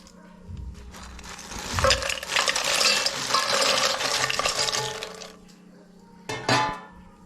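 Crisp fried Kerala-style tapioca chips being tossed and mixed with chilli powder spice mix, a loud dry rustling and clattering that runs for several seconds, then a short final burst of shaking after a pause.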